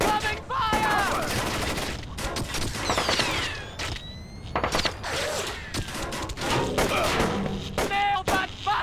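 Rapid bursts of gunfire and thumping shots ring out in a 2005 Splinter Cell Chaos Theory firefight, nearly continuous and dense, with shouting voices mixed through the combat.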